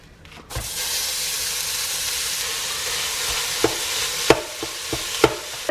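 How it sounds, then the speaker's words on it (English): Ground beef with onion sizzles as it browns in a Dutch oven, a loud, steady hiss starting abruptly, punctuated by sharp scrapes and knocks of stirring near the end, with no talk. "Just to brown the meat and the onion and the garlic"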